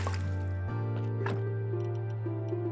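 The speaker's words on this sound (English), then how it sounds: "To get the water, all you have to do is go to the well." Water being drawn from a well in the video game Graveyard Keeper comes through as a few soft drips and liquid plops over a steady sustained game tone, with no talking.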